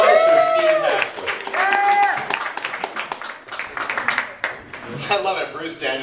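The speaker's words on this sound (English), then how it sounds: "Everyone, an applause for Steve Hasley." Applause and cheering from a comedy club audience welcoming comedian Steve Hasley at AKBAR, with a voice talking and whooping loudly over the clapping crowd.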